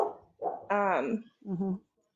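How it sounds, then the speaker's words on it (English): Dogs bark and yip in a few short bursts, one whining, strained bark stretching longer than the rest, fairly close and loud against an otherwise quiet room. "Sorry, dogs are barking."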